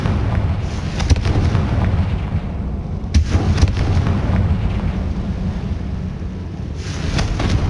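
Hogwarts Legacy Confringo fire spell bursts in a tomb setting: sharp explosive cracks near 1 and 3 seconds, then a sustained low rumbling roar throughout, ending with another flare of noise.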